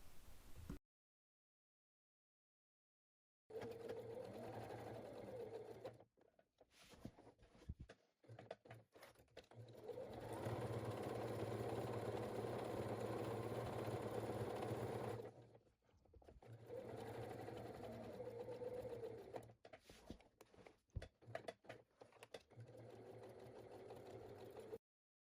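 Sewing machine stitching the seam of a handmade bag with three inner pockets, running in bursts that stop and restart as the needle stays in the fabric and the cloth is turned at the points, with a long steady run mid-way.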